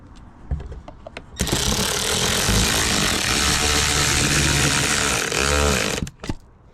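A Torx 27 driver runs a door panel screw back in on a 2022 Can-Am Maverick X3 XRS Max Turbo RR: a loud, steady mechanical whir lasting several seconds with a short ratcheting burst near the end, framed by brief clicks.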